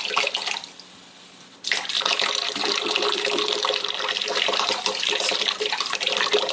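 Water pours steadily from a tap at about a quart a minute. A softer trickle comes first, then a sudden fuller, louder rush continues evenly to the end.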